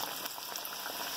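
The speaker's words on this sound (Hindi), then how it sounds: "ये देखें ये कितनी ज़बरदस्त फ्राई हो रही है" Surmai fish deep frying in hot oil, a dense, close, steady crackling sizzle, like rain on a surface, filling the whole moment without any talk.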